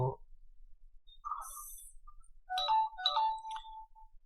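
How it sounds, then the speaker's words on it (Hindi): A mobile phone rings with a melodic electronic ringtone: a short series of bright, beeping tones that rise and hold, heard quietly in an otherwise still room. "मोबाइल बज रहा है।"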